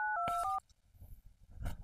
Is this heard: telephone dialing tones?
yes